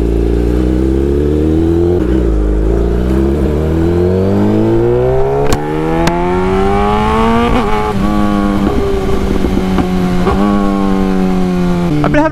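A Kawasaki ZX10R sport bike with a running fault revs loudly and continuously, its engine pitch climbing and falling through repeated gear-change swells, with brief clattering pops near the start and end.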